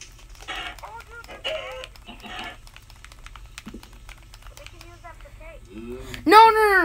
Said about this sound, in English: There's a freaking chicken!